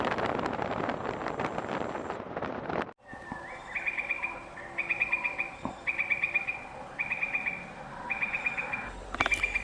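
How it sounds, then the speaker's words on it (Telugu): A bird along the Tirumala ghat road gives a repeated series of short, high chirping calls at a steady rhythm over wind and outdoor background noise, after a brief loud rustling burst at the start. "ఘాట్ రోడ్లో ఈ బర్డ్ కనపడింది."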